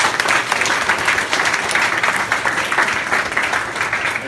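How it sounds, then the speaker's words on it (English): Steady, dense applause from a gathered crowd at a food bank event carries on evenly throughout, with faint voices underneath. "So give you guys a round of applause."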